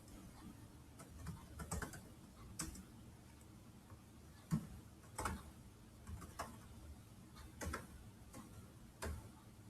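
Keys on a computer keyboard are tapped as an address is entered, producing faint, sparse, irregular clicks at close range in a quiet room, with no voices.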